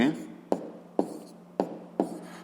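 Pen strokes writing out an answer to a fifth-grade math exercise by hand, sharp scratchy marks repeating about every half second over a low steady hum, close and fairly quiet.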